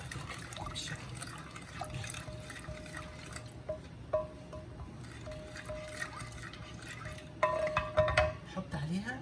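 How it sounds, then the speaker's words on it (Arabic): A spoon stirs a sugar and yeast mixture in a bowl, giving soft wet swishes and light clinks against the sides, fairly quiet and close, with a faint steady tone humming in the background. "وهقلب بقى المكونات بتاعتي بالشكل ده"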